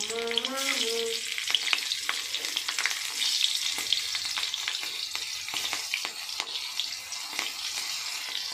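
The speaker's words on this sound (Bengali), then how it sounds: "ওই মাছ ভাজার তেলে আমি কালো জিরে 1 চিমটে দিয়ে দিলাম" Black cumin seeds and green chillies sizzle in oil left over from frying fish, a loud, steady crackling hiss that holds throughout with no talking.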